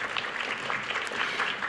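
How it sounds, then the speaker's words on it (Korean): Brief burst of audience clapping welcoming a panel of marketing leaders at a conference, a steady patter from a moderate crowd, even and mid-distance, with no voices over it. "박수로 환영해 주시길 바랍니다"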